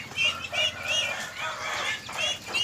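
Mother hen clucking steadily with her chicks, a brood of nine hatched under a jackfruit tree in a garden; soft repeated clucks and thin chick peeps run close and continuous, no voices over them.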